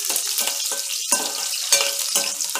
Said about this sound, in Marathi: लसूण छान थोडीशी तांबूस कलर पण भाजून घ्यायची आपल्याला